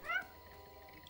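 A cat gives a brief meow in the video game Stray, a single short call at the start, followed by a quiet game ambience hum.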